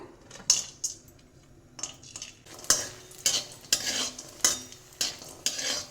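Badi, sun-dried lentil dumplings, frying in a pan, with repeated stirring clinks and scrapes of a spatula against the metal over a soft sizzle, close and fairly quiet, no talking.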